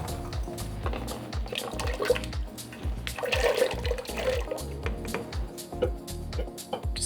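Water running into a cooking pot of soaked Greek giant beans, with a steady pouring rush and sloshing splashes that rise and fall, close and fairly loud.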